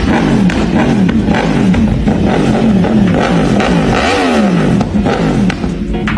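A sport motorcycle, likely a BMW S1000RR or Yamaha R1 superbike, revs hard and loud up close, its engine note repeatedly rising and falling in aggressive pulls with no talk.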